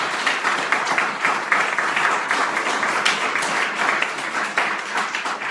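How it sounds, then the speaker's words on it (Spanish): A church congregation claps together during a Spanish-language sermon, producing loud, dense applause with a faintly rhythmic pulse that carries on without a break from start to finish. "Denle un aplauso al Señor"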